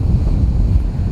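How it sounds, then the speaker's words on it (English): Strong wind buffets a microphone held into it outdoors, making a loud, steady low roar with rumbling gusts and no other sound. "I'll put the microphone towards the wind so you can hear it. It's crazy windy out here."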